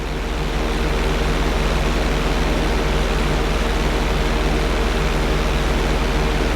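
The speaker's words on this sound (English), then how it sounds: "On my mark, roll your plane over to the opposite side and hold the position." Steady, loud broadband rush of a propeller plane flying knife edge, rolled onto its side and held, in the GTA 5 flight school challenge, constant and unbroken with no voices.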